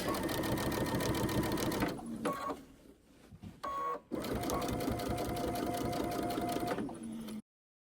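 A sewing machine stitches a seam in a quilted hoodie, running loud and steady in long bursts, with a short pause and a couple of brief restarts in the middle before it settles back into continuous stitching.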